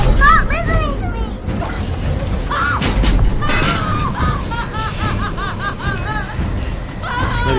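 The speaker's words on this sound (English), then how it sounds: "Lady's freaking out, even though everything's smashing around her" Objects crash and shatter around a room in Beyond: Two Souls amid a frantic scene, with loud continuous chaos, rising wails and shrieking tones layered over the clatter.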